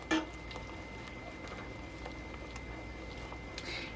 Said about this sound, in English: Alright, we got it coming to a rolling boil.